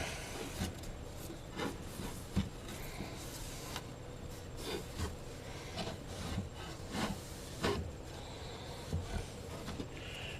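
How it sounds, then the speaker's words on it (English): A cloth rubs against a wooden bookcase, wiping away excess glue in repeated short scuffing strokes, close and moderately quiet. "I'm just wiping any excess off"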